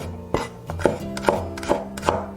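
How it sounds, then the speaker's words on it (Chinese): Garlic being sliced with a knife on a cutting board, five or six sharp, evenly spaced chops close up, crisp knocks of blade on wood with no talk. "大蒜切片"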